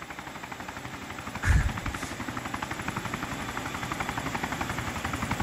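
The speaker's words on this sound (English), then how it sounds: "Might be an helicopter." An approaching helicopter in the video game Arma 3 makes a steady rhythmic rotor thump, moderately loud and continuous, with a brief louder thud partway through and no talking.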